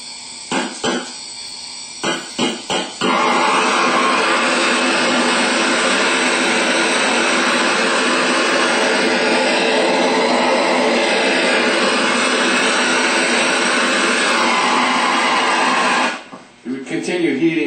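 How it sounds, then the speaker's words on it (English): A propane torch heats the aluminum outer housing of a 3G alternator during a rebuild, a loud, steady roar lasting about thirteen seconds after a few short knocks and clicks, then cutting off. "you can use a propane torch, and you want to heat up the sides of it all the way around the aluminum part of the outside diameter"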